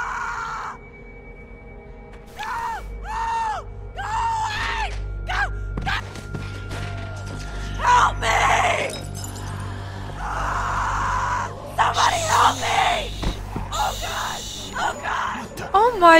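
A girl screams in The Walking Dead video game, shrill cries rising and falling over several seconds amid a low game score and ambient drone, with strained voices and gasps around it.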